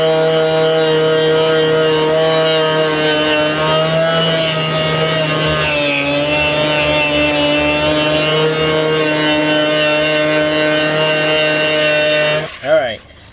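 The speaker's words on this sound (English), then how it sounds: "take the wire wheel, clean it up" A wire wheel on a power tool grinds metal on a car body in a workshop, a loud steady harmonic whine that dips briefly and stops abruptly near the end.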